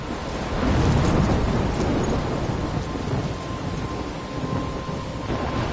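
A thunderstorm in Life is Strange gives a loud, rolling thunder rumble over constant heavy rain and some wind, and the roar continues throughout.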